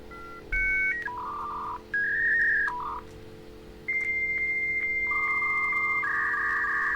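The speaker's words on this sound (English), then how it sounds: "what you hear is the sound of an old school dial-up modem coming from each of your agents." Old-school dial-up modem tones from a computer heard at a distance, a sequence of stepped electronic beeps and sustained pitched tones over a low hum, moderately faint.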